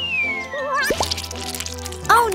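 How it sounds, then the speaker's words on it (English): Toy slime splashing and dripping during pretend play with toy figures, wet squelchy splashes and drips mixed with high playful voices and music over the short stretch. "This isn't water. It's slime."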